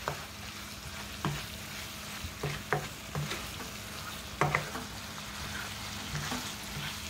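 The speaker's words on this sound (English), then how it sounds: "Stir that in." Chunky salsa being stirred into taco pie filling in a pan, with a steady low sizzle under irregular scraping and clacking strokes of the spoon, fairly quiet and close, no talking.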